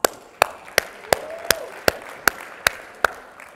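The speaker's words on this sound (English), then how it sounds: "Give yourself a round of applause." Slow, evenly spaced sharp claps at a business gathering, about nine crisp hand claps a little under half a second apart, close and distinct with quiet between them rather than a full crowd ovation.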